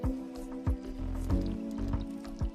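Water poured out of a Paterson film developing tank, a steady liquid rush with repeated sloshing splashes and drips, close and moderately loud, no talking.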